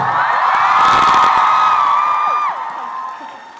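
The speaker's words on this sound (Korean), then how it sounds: "박수." A concert crowd cheers and screams at a Christmas concert, a loud wash of shrill voices and clapping that holds strong, then drops and fades toward the end.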